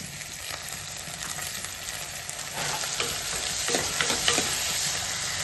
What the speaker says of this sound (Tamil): தக்காளி நல்லா வதங்கிடுச்சுங்க.